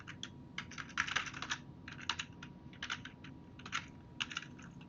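Keys clatter on a computer keyboard as a password is typed in quick bursts of close, light clicks with short pauses between, no talking over them.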